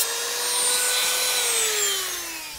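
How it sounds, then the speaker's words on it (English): A Dremel rotary tool whines steadily as it cuts a fly-tying hook in half, a loud, high continuous grinding tone with a slowly shifting pitch and no talking. "I'm going to actually cut this in half real quick with a Dremel"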